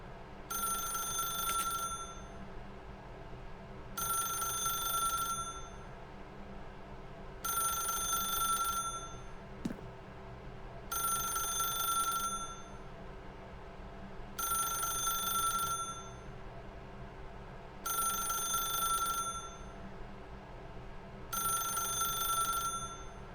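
A telephone bell rings in The Stanley Parable, sounding in regular bursts roughly every three and a half seconds, seven rings in all, over a steady low ambient hum.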